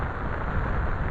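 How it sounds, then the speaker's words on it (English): Rain falling with gusting wind during a thunderstorm at a campsite, a dense continuous broadband wash close by with low rumbling underneath and no voices. "As you can hear, it started raining, the wind kicked up, lightning and thunder started"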